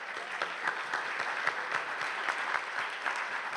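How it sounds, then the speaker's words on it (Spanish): Audience applause welcoming a guest at a conference lecture during an international radio biennial, a sustained patter of many hands clapping, moderately distant and steady, with no voices over it. "Lo recibimos con un fuerte aplauso."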